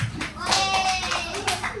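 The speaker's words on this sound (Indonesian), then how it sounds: "Kita kasih tepuk tangan dulu untuk Afif" Children in a third-grade classroom clap for a classmate, brief uneven bursts of hand claps close by, mixed with young voices talking.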